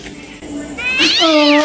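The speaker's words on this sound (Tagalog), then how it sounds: "Sabi ko nga, pusa lang yun." A cat meows loudly and close, one drawn-out rising-then-falling cry after a softer lead-in.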